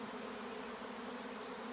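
Honey bees swarming and pouring into a hive make a steady, dense buzzing hum from many insects at once, close and even, no talking.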